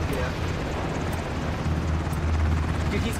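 Helicopter in the video game Ring of Elysium, a steady loud low rotor drone and engine rumble running continuously throughout, with no talk over it.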